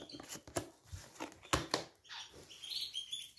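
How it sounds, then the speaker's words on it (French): Birds chirp and tweet close by in quick, irregular bursts, with some fluttering and rustling between calls. "les oiseaux font du bruit"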